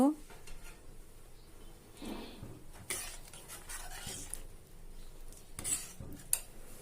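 A spoon stirs chhena and chopped dry fruits into payesh in a pot, giving soft scrapes and a few light metallic clinks at close range over a faint background.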